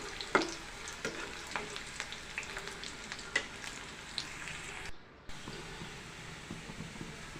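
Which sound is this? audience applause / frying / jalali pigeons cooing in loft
frying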